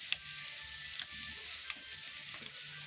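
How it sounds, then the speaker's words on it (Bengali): Potatoes frying for aloo bhaja on a wood-fired clay stove, a faint steady sizzle with a few soft stirring clicks and no voices. "আলু ভাজা হচ্ছে।"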